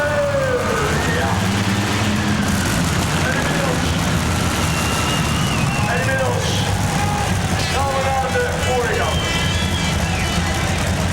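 A pulling tractor engine roars at an indoor tractor pulling event at IJsselhallen Zwolle, Holland, in 1996, a loud, constant rumble under continuous commentator speech.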